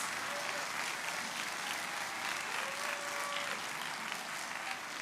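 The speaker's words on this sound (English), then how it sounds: "Give them a big round of applause." A small concert crowd at a middle school orchestra spring concert claps for the orchestra's alumni, a steady, fairly quiet patter of hands lasting several seconds.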